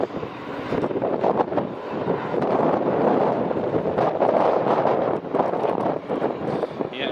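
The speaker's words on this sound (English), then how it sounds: "you can hear, folks, it's getting quite windy" Strong gusty wind roaring and buffeting the microphone beside an airport runway on a summer evening, rising and falling continuously with a broad rumbling rush.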